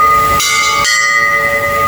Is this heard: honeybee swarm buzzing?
no